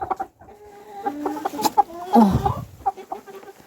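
Several chickens cluck and bawk close by in an irregular, overlapping patter, with a few louder squawks in the middle.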